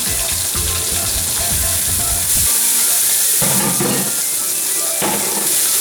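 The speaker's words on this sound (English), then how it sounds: "just enough to saute the garlic. I'll put in the garlic." Garlic sautéing in hot oil in a pan for a Filipino sautéed mung bean dish, a loud steady sizzle with stirring scrapes and clatter, broadband and continuous throughout.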